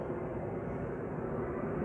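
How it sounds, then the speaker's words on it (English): A fixed-wing airplane passes overhead, a steady broad engine roar that stays loud and continuous throughout with no talking. "I wish I could say minimizing the airplane noise, but that will pass"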